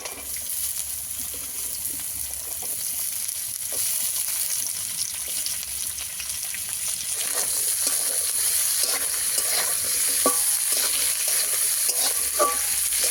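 Steady sizzling of carrots and beans frying in a hot pan, with occasional scraping and clinks as they are stirred; no voices, continuous and close.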